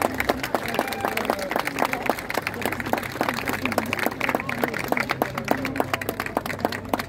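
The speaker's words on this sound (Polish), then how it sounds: "Wielkie brawa dla niego, proszę Państwa!" A crowd at a Silver Belt of Grunwald tournament award ceremony claps steadily for the third-place winner, a dense, continuous patter of many hands filling the room with light talk mixed in.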